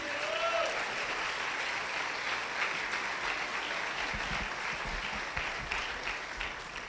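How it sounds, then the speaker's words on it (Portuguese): A church congregation claps continuously during an evening worship service as the preacher comes forward, a sustained, moderately loud wash of applause with faint voices and low thumps mixed in. "Aplauda ao Senhor até ele chegar aqui."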